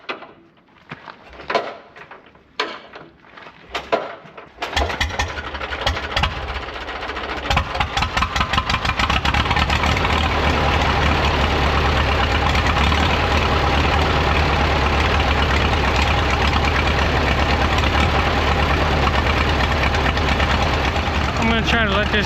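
A 1937 Caterpillar Twenty-Two crawler, hot from work, is restarted after a few sputtering attempts, then settles into a loud, steady idle close by that runs on without a break.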